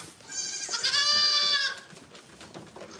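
Goat on a goat farm letting out one long, loud, wavering bleat close by, with softer rustling and background shuffling before and after, no speech.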